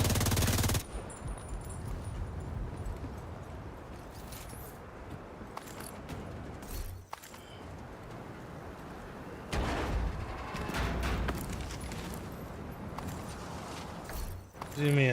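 Sustained machine gun fire from a full magazine dump in The Division 2, loud and continuous with bursts of other gunfire and game effects, under a speaking voice.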